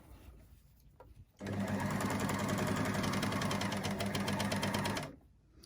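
An overlocker serger runs a seam on a cosmetic bag, starting abruptly and holding a steady, fast mechanical whir for about four seconds before stopping, close and loud with no voices.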